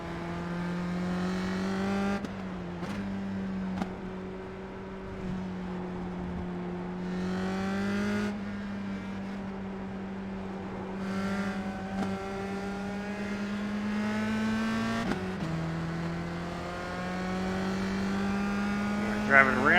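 USF-2000 open-wheel race car lapping Lime Rock Park in the iRacing sim, a steady droning engine note rising and falling with shifts and throttle changes, running continuously with brief dips at gear changes.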